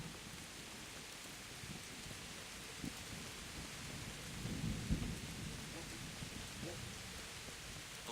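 Steady rain with rumbling thunder in the video game Kingdom Come: Deliverance, a dense continuous hiss carrying low thunder rolls that swell near the middle, with a few louder thumps.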